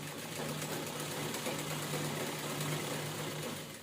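A sewing machine stitches a blouse in one continuous run, a fast even whirring buzz with a steady mechanical hum, close and unbroken for a few seconds.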